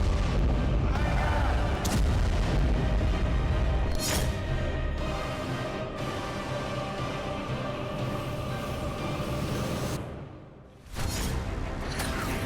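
Explosions in southern Tehran: a continuous dense roar of heavy booming blasts with rumbling, crackling bursts, loud and sustained, briefly dropping near the end before another boom.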